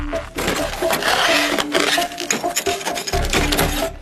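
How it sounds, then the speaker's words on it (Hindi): A chisel hacks into thick, solid river ice, cutting blocks in bitter cold. Rough scraping, crunching strokes repeat steadily and close by, filling the whole stretch with dense, gritty noise. "अब वो एक चिसल से मोटी बर्फ को काट रहे हैं।"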